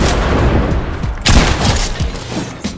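Rapid bursts of gunfire crackle from a first-person shooter video game, with a heavier blast partway through and continuous loud shots layered over a dense, busy background.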